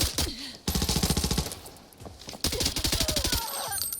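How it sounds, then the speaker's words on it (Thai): Rapid bursts of sniper and automatic gunfire in the shooter game Arena Breakout, sharp repeated cracks in quick volleys with brief pauses between them. "มีสไนยิง"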